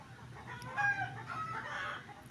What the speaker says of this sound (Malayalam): നമ്മുടെ കോഴികൾ നല്ല പോലെ കരച്ചിലാണ് കേട്ടോ ഇപ്പോഴൊന്നും നിർത്തൂല